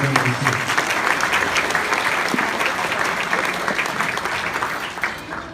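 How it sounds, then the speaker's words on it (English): Sustained applause from an audience at a chamber of commerce community awards event, steady and dense throughout with a slight fade near the end. "So please give Lynn Beck a round of applause"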